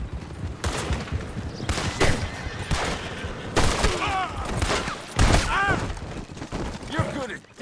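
Gunfire in the video game Red Dead Redemption 2 during a standoff with United States Army soldiers, several sharp shots and bursts scattered across the scene, mixed with in-game character dialogue and ambient background.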